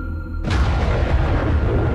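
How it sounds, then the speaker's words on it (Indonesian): A sudden thunder strike in a dark forest cracks in near the half-second mark, then rolls on as a loud, broad rumble that fills the rest of the moment. "Petir menyambar."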